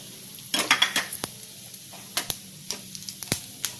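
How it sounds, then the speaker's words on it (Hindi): Asafoetida and cumin crackle in hot ghee in a heated kadhai while being stirred, giving short sizzling pops and light metallic scrapes in an irregular rhythm, fairly close and moderately quiet, with no talking. "मैंने इसमें 1 चम्मच घी डाला है और ये हींग डालेंगे, थोड़ा सा जीरा"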